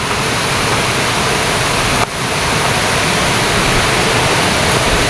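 Loud, constant rushing water of a mountain waterfall roars without pause, a dense broadband wash of strong current.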